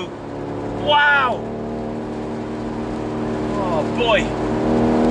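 A 530bhp BMW M850i convertible with xDrive pulls hard out of a corner, its engine droning steadily beneath a man's excited exclamations, the revs swelling near the middle and again toward the end.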